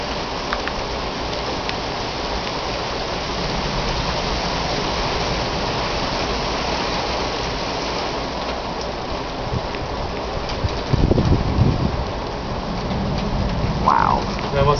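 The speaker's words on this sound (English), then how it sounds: "It's just the rain." Heavy rain pours steadily during a thunderstorm, with a louder rumble of thunder swelling late and a brief murmur of voices.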